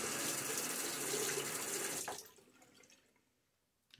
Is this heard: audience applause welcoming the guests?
no